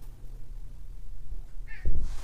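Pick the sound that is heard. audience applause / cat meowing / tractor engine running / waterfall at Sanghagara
cat meowing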